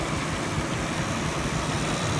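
Idle of a 3.9 litre Ford EB Falcon engine on a swapped-in XF carburettor, a steady loud hissing wash over a low rumble, the PCV valve sound blending into a constant close-up drone.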